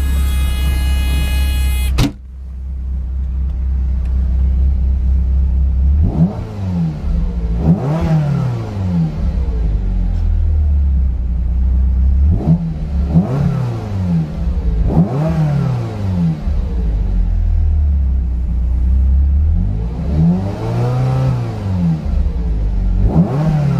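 A 1990 Ferrari 348 TS engine revs repeatedly in strong rising-and-falling bursts, about five loud throttle blips over a steady idle, close by with no talking.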